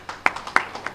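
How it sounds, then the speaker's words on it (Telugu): A small audience claps at an event marking the opening of the Tadhagatha Pyramid Dhyana Mandiram meditation hall; a few sparse, separate hand claps are heard, fairly close and light, over a quiet background. "క్లాప్స్ కొట్టండి."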